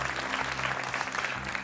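Studio audience at a TV quiz show breaks into brisk applause, a short, dense round of clapping under a low steady hum from the set.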